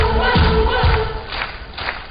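Beach volleyball crowd at a Grand Slam semifinal in Stavanger cheering and roaring as they rise, loud and close at first, with chants and shouts that fade in bursts.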